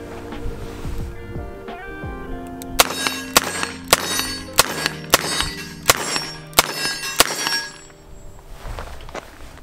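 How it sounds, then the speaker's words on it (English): Rapid revolver fire from a Smith & Wesson Model 327 TRR8 at steel targets: a quick string of about eight sharp shots, each followed by a ringing metallic clang from the steel, loud and outdoors. "I think it's time for a mag dump or a cylinder dump for the Patreon squad"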